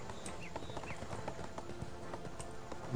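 Quick, close clip-clopping of a donkey being ridden in ArcheAge, a short burst of steady hoof taps over soft game background.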